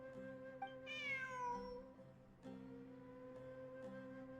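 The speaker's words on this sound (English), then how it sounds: "Look, a cat." A cat in Genshin Impact meows once, a rising, bending call, over a quiet game backdrop of sustained tonal music with a soft chime or two, no talking.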